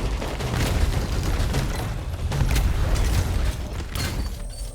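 Gunfire in the video game Bounty Star, a dense, continuous run of loud shots and mechanical clatter under a low rumble, sustained throughout without pauses.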